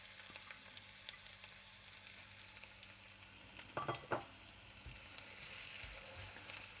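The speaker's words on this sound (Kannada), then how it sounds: "ಈರುಳ್ಳಿನ ಆಯಿಲ್ಗೆ ಹಾಕಬೇಕು." Onion drops into hot oil with cinnamon, cloves, cumin and bay leaf in a home kitchen pan, giving a quiet, steady sizzle and a brief clattering stir partway through.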